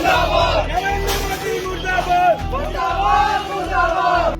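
Congress party workers protesting in Chhatarpur, a large crowd shouting slogans against Narendra Modi in loud rhythmic bursts, voices massed close and continuous with babble between chants.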